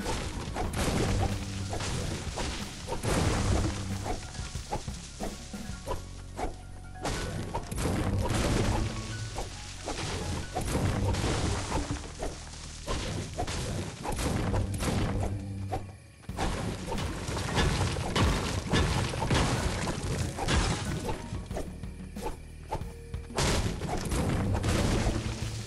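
Rapid-fire gunfire in Fortnite, loud dense volleys of shots with heavy thumps and crashes, continuing almost without pause with only a brief lull partway through.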